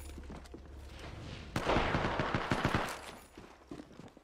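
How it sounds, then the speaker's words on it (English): Video game gunfire during a multiplayer firefight, with an enemy shooting from above: a steady low rumble breaks into a loud burst of rapid automatic shots that rattle on for a couple of seconds, then thin out into scattered fainter bursts. "He's shooting me from up top."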